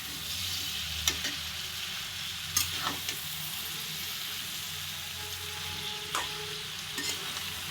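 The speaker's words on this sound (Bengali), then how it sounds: "এই তো এখন শাকগুলো দিয়ে দিব, অল্প অল্প করে দিয়ে নেড়ে দিই।" Leafy greens and potato pieces fry in a pan while being turned, with a steady quiet sizzle and a few sharp spoon taps against the pan. No one speaks.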